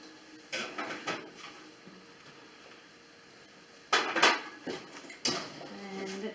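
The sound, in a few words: bread pan being placed in the oven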